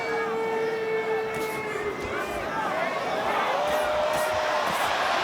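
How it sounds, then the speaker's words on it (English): Restless boxing arena crowd, a broad murmur of chatter and whistles with rising wavering tones and scattered shouts, under a commentator's voice. "Crowd's getting a little restless."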